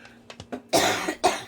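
A few small throaty sounds lead into two harsh, loud coughs close to the listener.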